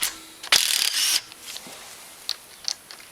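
A ratchet loosens the 10mm center bolt on a Honda Foreman 500 motor during disassembly, giving a close, loud burst of rapid clicking followed by a few quieter, scattered clicks.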